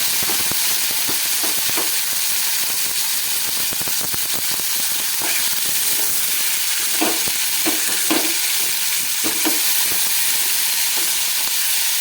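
Tomatoes and onions fry on a high gas flame while they are stirred and mixed in the pan, giving a continuous sizzling hiss broken by scattered clicks and soft scraping taps throughout.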